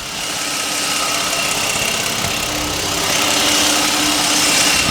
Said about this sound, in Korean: 엔진 소리 한번 들려드리도록 하겠습니다